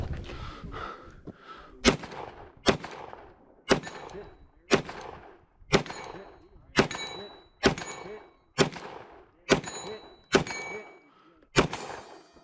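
Pistol shots ring out on a run-and-gun shooting course in the high desert mountains of West Texas as rounds strike targets. About ten sharp reports come at an even pace, each with a ringing clang and a short echo.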